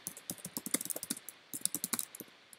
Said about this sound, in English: by typing my name here